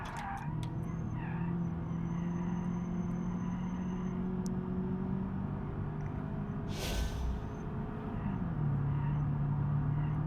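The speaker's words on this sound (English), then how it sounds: "that squeaking sound is bloody killing me" A wrecked, damaged car in the BeamNG.drive driving game, driven at the Nürburgring, squeaks steadily over a constant engine drone, with a brief burst of rattling noise partway through and a shift in engine pitch near the end.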